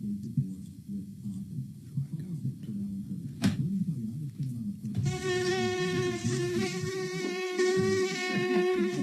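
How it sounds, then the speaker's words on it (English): Low muffled voices murmur, then a high, whining insect-like buzz starts and continues steadily, layered with several harmonic tones over the background chatter. "He's playing buzzing noises."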